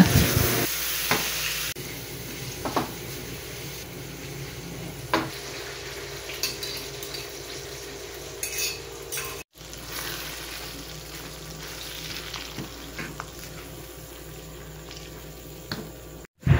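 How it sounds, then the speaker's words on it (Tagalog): Tomatoes and garlic sauté in a pan with a steady low sizzle, broken by occasional stirring scrapes and clinks of a utensil, close and continuous with no talking. "Igigisa at palalambutin nga lang natin ng mabuti yung kamatis dyan."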